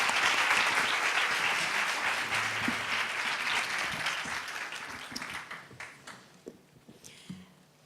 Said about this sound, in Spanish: ¡La aplaudimos!